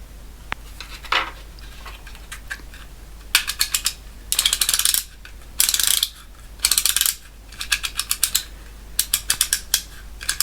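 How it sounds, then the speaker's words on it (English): Screws being driven to hold a circuit board in a cheap electronics kit, heard as clusters of dry, rapid ratcheting clicks in short bursts with pauses between them, close and fairly loud with no talking. "put the screws in that hold this board in place"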